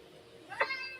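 A house cat gives a single short meow, fairly close and soft, against a quiet room background.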